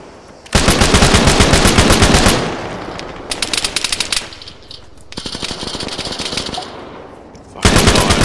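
Rapid automatic gunfire in the Arma 3 video game, loud close bursts of machine-gun fire broken by short pauses, with a quieter stretch of shots in the middle before heavy firing resumes.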